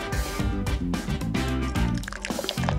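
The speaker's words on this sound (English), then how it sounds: "To do this, pour the whiteout into a dish." Whiteout correction fluid poured from a small bottle into a dish, giving close, wet dripping and gurgling splats in irregular bursts with short pauses, no voices.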